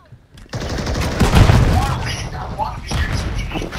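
Call of Duty MW3 multiplayer gunfire, a dense, loud fusillade of rapid shots and booms that continues throughout, with a player talking over the shooting.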